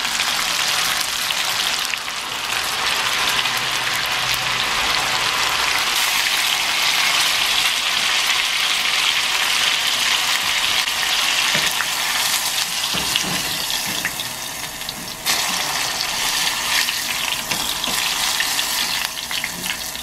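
Fish fillets for chicharrón de pescado deep-fry in very hot oil at about 170 degrees Celsius. A loud, dense, continuous bubbling sizzle runs throughout with no talking.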